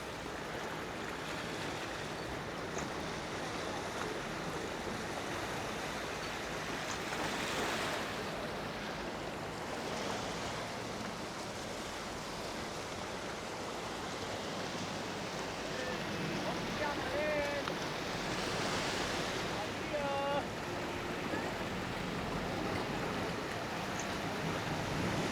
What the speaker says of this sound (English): I love the sound of the water hitting the wave,